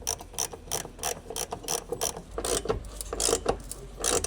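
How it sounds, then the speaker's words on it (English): Ratchet wrench with a 13mm short socket clicking in quick repeated bursts while tightening the upper side step bracket bolts on a 2009-2018 Dodge Ram 1500, close and fairly loud. "use the large 13mm short socket with the large ratcheting wrench"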